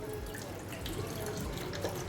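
Rinse water splashes and trickles steadily as it drains off soaked urad dal, a close, continuous wet rush with small drips.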